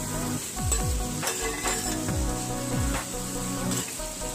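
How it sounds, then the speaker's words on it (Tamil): Fried elephant foot yam is tossed with masala in a pan, with loud, continuous sizzling and repeated scraping, clanking stirs of a spatula against the metal, heard up close. "மசாலா எல்லா பக்கமும் நல்லா கோட் ஆகிற அளவுக்கு மிக்ஸ் பண்ணிவிட்டு"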